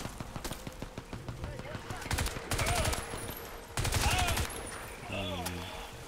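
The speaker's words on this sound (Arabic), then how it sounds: "تو قاعد احاول اطلق وما قاعد توصل الرصاص للبرلز او للبراميل اللي هناك" Automatic gunfire from the PC game Crysis 3 rattles in repeated rapid bursts, loud and close, with short pauses between them and game sounds layered underneath.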